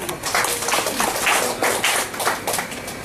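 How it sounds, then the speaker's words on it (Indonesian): An audience at a seminar claps in brief, scattered applause, fairly faint and thin, with a few separate bursts of hand claps over about three seconds. "Tepuk tangan."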